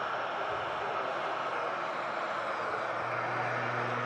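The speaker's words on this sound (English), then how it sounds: "And in from Cancun, next to land, the TUI Dreamliner." A TUI Dreamliner airliner coming in to land at Manchester Airport after a flight from Cancun, its engines a steady broad roar at a distance with a low hum building near the end.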